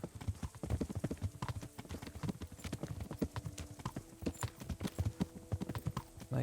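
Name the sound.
horse cantering in Kingdom Come: Deliverance video game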